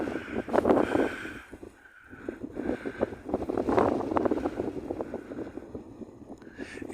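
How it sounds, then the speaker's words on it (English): Strong gusty wind buffeting the microphone on a hilltop at Beacon Hill in Sedgley, loud rumbling roars that swell and drop over several seconds, with no speech. "It's really windy up here"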